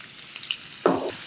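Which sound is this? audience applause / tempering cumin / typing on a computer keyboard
tempering cumin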